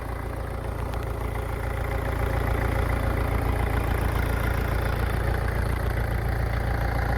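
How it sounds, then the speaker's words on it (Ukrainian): A JINMA 404 four-cylinder mini tractor engine running in its slowest gear, a steady, loud, close diesel chug with an even rhythm that strengthens slightly after the first two seconds. "Ось це найповільніший хід трактора."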